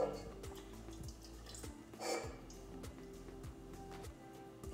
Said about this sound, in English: Now we're gonna pour our milk in with the eggs.